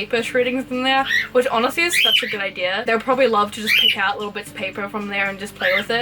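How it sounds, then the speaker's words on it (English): Pet budgies and cockatiels squawk and chirp in bright, loud bursts close by, nearly continuous under and between a person talking indoors. "I'm sorry about my birds, by the way. They're being a bit extra loud today for some reason."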